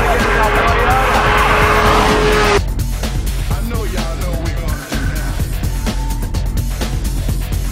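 Toyota Supra making over 1000 wheel horsepower racing a Suzuki Busa motorcycle on a freeway: loud engine and wind roar with a high whine for the first few seconds, then rushing road noise and fainter engine tones.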